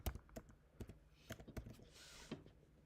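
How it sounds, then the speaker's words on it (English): Keystrokes on a computer keyboard come in a quick, irregular burst of close, crisp clicks, with short pauses between clusters and a brief rustle near the end. "I'm typing it right here."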